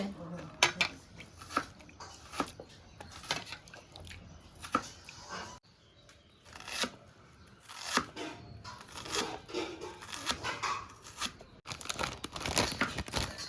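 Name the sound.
tearing off the brown crust of bread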